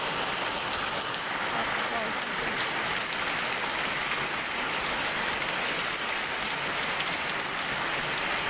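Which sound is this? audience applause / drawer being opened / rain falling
rain falling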